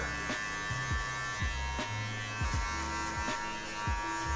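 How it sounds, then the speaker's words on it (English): An electric hair clipper buzzes steadily and close while cutting a skin fade, its motor hum dipping in a series of repeated short strokes as it passes through the hair. "I'm just letting the clipper do all the work."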